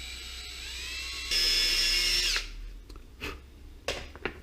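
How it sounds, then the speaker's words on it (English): A power drill whines up to a high pitch, bites in loudly for about a second, then winds down, followed by faint clicks and handling noises. "Drill my hole."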